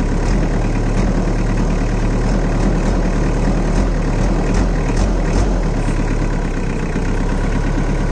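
A tractor engine idles loudly and evenly up close, a constant low rumbling chug with no change in speed and no voices.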